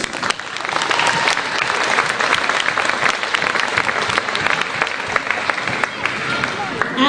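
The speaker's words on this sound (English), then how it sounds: "please give a round of applause for all the hard work and efforts of these individuals" Audience at a high school wrestling dual meet applauding wrestlers, trainers and cheerleaders, a steady, dense wash of clapping from a large crowd throughout, with faint talk beneath.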